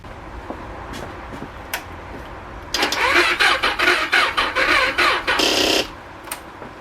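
A Kawasaki ZZR motorcycle with an undersized battery cranks over in a loud, choppy burst of starter pulses lasting about three seconds, then cuts off, with faint clicks before and after.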